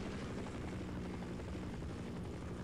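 A helicopter in the video game Half-Life gives a steady, continuous rotor drone that stays fairly faint and even throughout, with no talking over it.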